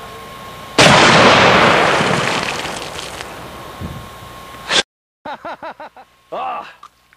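A loud cannon blast bursts out and roars, slowly decaying for several seconds, followed by a voice speaking in short phrases.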